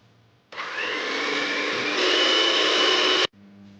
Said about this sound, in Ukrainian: У мисці збиває яйця, цукор і олію до однорідного стану